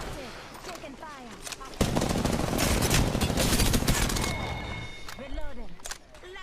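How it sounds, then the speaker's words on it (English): Rapid gunfire in Apex Legends, a dense loud burst of shots in the middle under game voice lines, with bursts of chatter and effects before and after. "Shields up. Taking fire."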